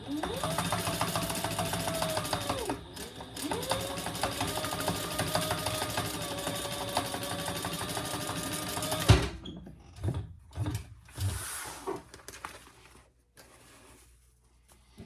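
A sewing machine top stitches a crossbody bag, a steady rapid whir that speeds and slows for about nine seconds, then stops and gives way to a few faint handling knocks.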